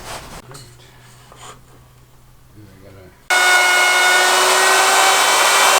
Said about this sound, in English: Now I'll reset this fence and make this other cut the other way.